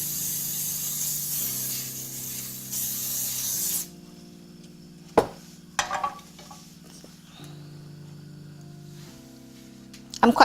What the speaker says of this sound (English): I'm going to use cooking spray.